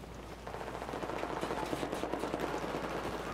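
Sustained automatic fire from an ARM4 assault rifle in Battlefield 4, a fast, even stream of close, crackling shots lasting several seconds with no talk.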